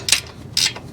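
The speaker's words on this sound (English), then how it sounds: "I just used this little flex head ratcheting wrench on here" A GearWrench flex-head ratcheting wrench, used while working on the heater hose fittings of a 1999 Ford Ranger 3.0L, gives two quick crisp ratcheting clicks close up, alone without talk.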